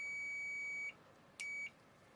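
A multimeter's continuity sounder testing a switch on a Dyson HD07 Supersonic hair dryer emits a steady high beep lasting almost a second, then a short click and a second quieter beep, in an otherwise quiet room.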